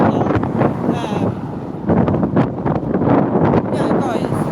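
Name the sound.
strong wind blowing on microphone outdoors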